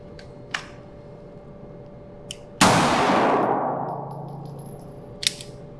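One loud, close handgun shot cracks out on a range during a red dot draw-and-fire drill, with a long decaying echo, set between light clicks and small metallic clinks before and after.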